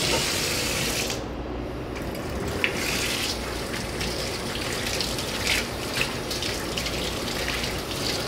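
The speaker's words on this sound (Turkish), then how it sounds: "Balığımızı bir yıkayalım." A kitchen tap runs steadily while a fresh sea bream is rinsed under it, the water gushing and splashing against the fish and sink, with brief shifts in the flow and no speech.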